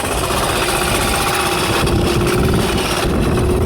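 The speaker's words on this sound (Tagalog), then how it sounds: "umandar yung makina natin" A fishing boat's diesel engine runs steadily at close range, a loud continuous rumble with a faint knocking beat under a broad hiss of wind and water, no talk over it.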